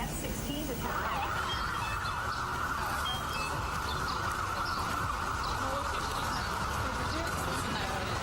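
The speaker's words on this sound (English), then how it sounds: "all the fucking sirens and the noise" Sirens from a news report about bombing wail steadily under a dense, noisy background with some rising tones, faint and distant-sounding, with no speech clearly separate from it.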